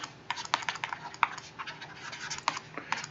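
A pen scratches across a tablet screen during a math lesson, short quick strokes and taps in an irregular rhythm, quiet and close with no talk over it.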